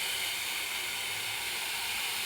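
Onion fries in a pan with a constant, even hiss of sizzling oil, steady and close, with no pauses or other sounds.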